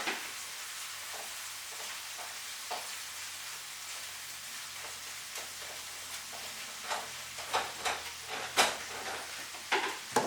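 Dried crushed chilies sizzling in a hot pan, a steady soft crackling hiss with sharper pops and spits growing more frequent toward the end, close and alone with no talk.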